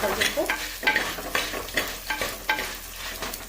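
Coriander and garlic roast in a pan on a gas stove, stirred in steady scraping strokes about twice a second over a light, constant sizzle, close and clear.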